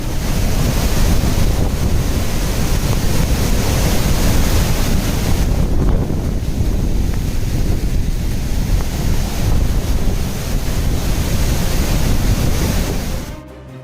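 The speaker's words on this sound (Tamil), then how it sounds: "கனமழை காரணமாக குற்றாலத்தின் அனைத்து அருவிகளிலும் ஏற்பட்ட காட்டாற்று வெள்ளம்." Flash-flood torrent at the Courtallam waterfalls after heavy rain, a loud, continuous broadband roar of rushing water with wind buffeting the microphone, steady throughout before cutting off abruptly at the end.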